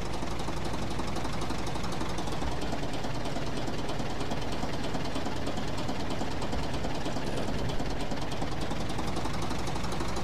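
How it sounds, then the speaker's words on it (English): A tractor engine ploughing a field in the farming game Professional Farmer 2014 drones in a steady, rattling, knocking chug. It runs loud and unbroken throughout, with no talk over it. "here I am, stuck in the tractor ploughing"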